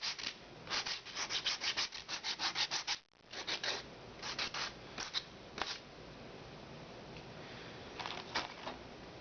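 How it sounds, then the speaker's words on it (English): Wooden pieces are sanded by hand in quick, rhythmic back-and-forth strokes, close and fairly loud, pausing briefly before further bursts of rubbing. "So sand your pieces as you go along so you won't get splinters."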